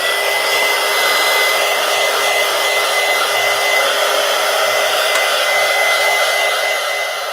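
A hair dryer blows continuously to dry paper, a loud, steady close-up whir with a constant motor tone running unbroken and no voices.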